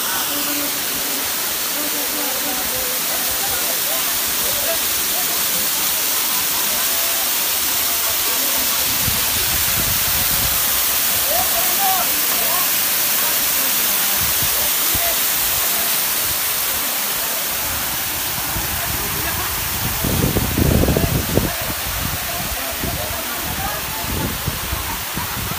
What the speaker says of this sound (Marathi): हा लहान धबधबा या डोंगरामधून उगम पावतो